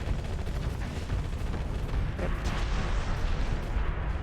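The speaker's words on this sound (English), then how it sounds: "one Dynastos wastes its missiles and gets blown up" Continuous space battle din from the Starsector game, where a Dynastos starship fires its missiles and is blown up, a dense rumbling wash of explosions and weapon fire with no clear individual shots.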